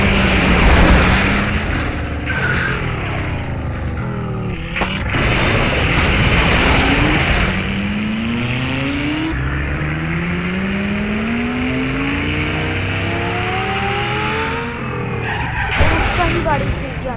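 A racing video game car skids and crashes at full speed, tires squealing in long sliding sweeps over a roaring engine, with impact bursts near the start and end; someone talks over much of it.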